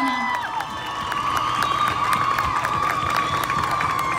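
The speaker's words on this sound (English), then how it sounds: "one huge round of applause for Selena" A large crowd cheers and applauds for Selena at the Fiesta de la Flor 2019 tribute event, a dense, steady roar of clapping and shouts that holds for the whole stretch with no pauses.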